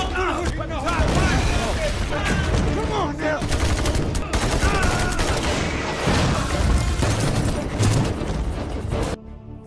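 Dense bursts of gunfire and explosions from a film battle between American special forces and Taliban fighters in Afghanistan crackle continuously amid dramatic music and shouting voices, loud and chaotic throughout.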